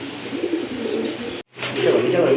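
Pigeons coo in low, soft repeated calls close by, broken by a brief silence midway, while someone talks over them.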